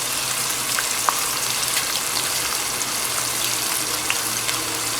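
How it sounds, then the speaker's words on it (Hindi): Water poured into a pan of sizzling tomato masala makes a steady hissing, bubbling sizzle that fills the whole stretch evenly, close and fairly loud, with no voices. "और तकरीबन 3 से 4 टेबल स्पून जितना पानी डाल लें ताकि आपका मसाला लग ना जाए"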